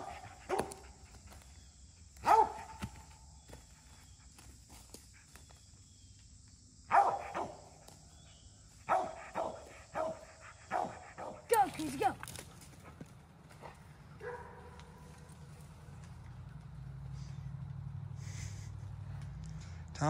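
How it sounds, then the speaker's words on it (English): Dogs barking during a squirrel hunt in the woods, including a house dog across the way: scattered single barks and bursts spread over the stretch, some near and some farther off, with outdoor rustling. "there's a house dog down across there that's barking and getting all mixed up with his bark"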